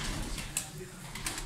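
Pigeons in a coop coo softly in a short burst, with a few faint chirps and rustles nearby and some low background noise.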